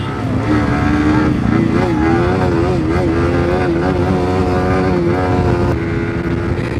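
A Yamaha R15M motorcycle engine revs loudly and steadily up close with a rising and falling pitch at a street race, while voices talk over it.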